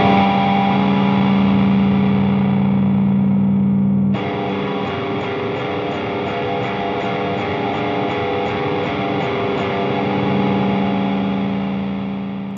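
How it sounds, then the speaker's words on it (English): A heavily distorted electric guitar chord rings out loud and sustained, then a second distorted chord strikes hard and rings on alone. "let's hear that on an electric guitar with some distortion"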